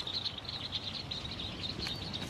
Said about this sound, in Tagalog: Naririnig yung mga ibon?